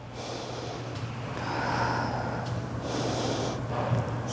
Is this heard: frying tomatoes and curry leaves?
no